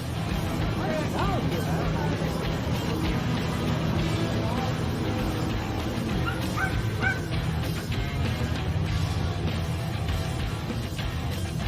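A dog yips and whimpers while out on a boat, with short cries mixed into steady engine and water noise and people talking nearby.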